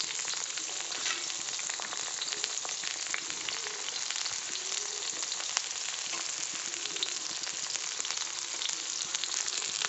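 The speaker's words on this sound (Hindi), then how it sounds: "कढ़ाई में तेल गर्म हो गया है और इसमें जो है कटा हुआ प्याज डालेंगे कटे हुए प्याज को जो है अच्छे से भून लेंगे" Chopped onion fries in hot oil in a kadhai, giving a dense, even sizzle that carries on steadily throughout with no talk.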